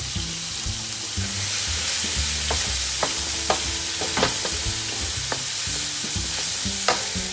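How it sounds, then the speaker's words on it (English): Lemon and lime slices sizzle in a hot pan, a continuous close frying hiss with a few sharp ticks and pops as they cook. "got a few slices of lemon, some round slices of lemon. I'm just going to throw them straight in the pan, along with a little bit of lime."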